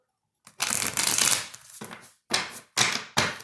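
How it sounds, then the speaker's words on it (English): Tarot cards being shuffled up close: a long riffle followed by three short, crisp bursts separated by brief pauses. "I like to shuffle the cards on camera"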